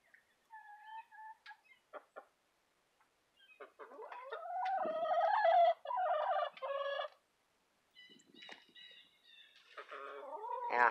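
Backyard hens in a coop chatter and cluck close by, a series of squawky, warbling calls coming in bursts with short pauses, fairly loud and without talk.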